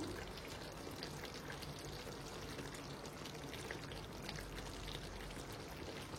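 Partly cooked rice, still holding some of its water, is tipped into a chicken dum biryani pot, making a soft, steady pouring and trickling wash that stays faint and even throughout with no speech.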